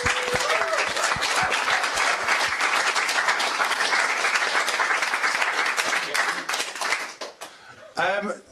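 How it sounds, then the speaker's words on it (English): Loud, sustained applause from an audience at an evening education debate, dense steady clapping that tapers off near the end, with a brief voice at the close. "So give a round of applause, please."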